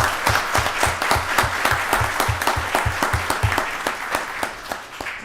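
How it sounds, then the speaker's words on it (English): Steady applause from the audience at a county board of commissioners meeting, dense rapid clapping at a constant level throughout with no talking. "Can we give them one more round of applause?"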